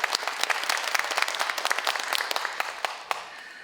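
An audience applauds at a city culture-program briefing in Gangneung, a dense burst of many hands clapping that stays steady and then thins toward the end.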